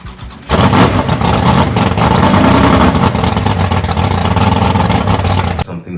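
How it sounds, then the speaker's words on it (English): A Mazda rotary car engine cranks and catches abruptly, then settles into a loud, steady, throbbing idle that runs close and unbroken for several seconds. "there's nothing better than starting a car and you get a little bit of that vibration"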